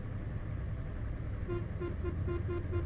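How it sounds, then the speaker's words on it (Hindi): A bus horn in an Indian bus simulator game gives a run of short, evenly spaced beeps over a steady, rumbling engine drone. "हॉर्न दे रहा हूं मैं"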